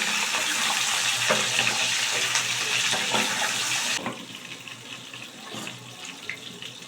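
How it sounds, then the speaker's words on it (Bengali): Potato and pumpkin pieces frying in a covered pan, a steady broad hiss of sizzling oil that drops quieter partway through, with no voices. "এই আলু আর কুমড়োটা কিন্তু ভাজা ভাজা হয়ে এসছে"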